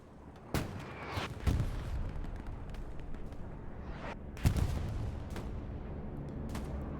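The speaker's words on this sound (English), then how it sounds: "This will be a Axis bombing run going over Chapel." An Axis bombing run over Chapel on the Utah map in Hell Let Loose, during a competitive match: several heavy blasts land a few seconds apart over a continuous low rumble of battle.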